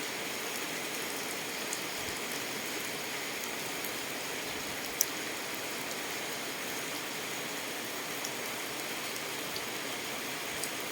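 Steady morning rain falls evenly, a soft continuous hiss of drops on surfaces with no voices, constant and fairly close throughout.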